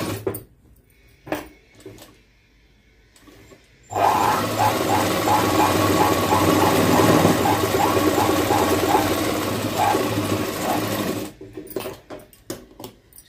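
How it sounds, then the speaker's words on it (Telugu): An electric sewing machine runs a straight seam along a blouse side for about seven seconds, a loud continuous whir that starts and stops abruptly, framed by faint handling sounds. "ఇప్పుడు మాల్తీ బ్లౌజ్ ప్రకారంగా మార్కింగ్ చేసుకున్న దాన్ని స్ట్రైట్గా కుట్టు అనేది వేసేసుకుందాం"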